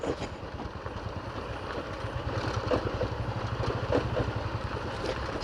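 A motorcycle engine runs at a steady putter on a rough road near Sariya Waterfalls, with a low, close, rhythmic throb and no voices.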